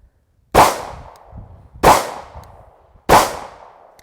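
Three evenly spaced, loud gunshots from a Smith & Wesson Shield 9mm pistol at an outdoor range, each a sharp crack with a short echoing tail and quiet gaps between.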